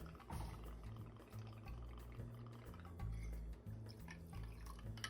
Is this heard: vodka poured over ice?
yes